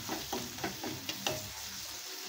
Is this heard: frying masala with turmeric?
yes